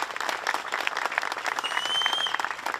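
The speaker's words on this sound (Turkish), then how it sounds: "sizlerden kuvvetli bir destek alkışı istiyoruz." Crowd applause at a cycling-tour celebration at Pamukkale, dense continuous clapping from many people throughout, with a few bright whistles cutting through near the end.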